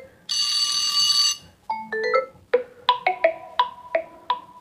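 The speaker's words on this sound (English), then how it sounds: "if you want to set a inbuilt alarm ringtone, you can select from classic themes or aquamorphic themes" Built-in alarm ringtone previews on a OnePlus Nord CE4 Lite 5G phone: a sustained electronic buzzy tone, then a series of bright, plucked melodic notes in a bouncing rhythm, close and clear with no talking.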